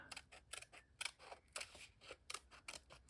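Scissors snip through paper along a drawn outline for a mixed media art piece, a quick series of close, crisp cuts in an uneven rhythm with short pauses between strokes.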